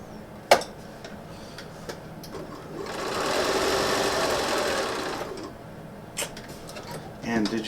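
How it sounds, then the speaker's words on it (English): A sewing machine runs steadily for about two seconds, stitching down the long edge of fabric. A few sharp clicks and taps come before and after the run, and a voice is present. "I'm sewing down the long edge, which is totally not where I'm supposed to be sewing."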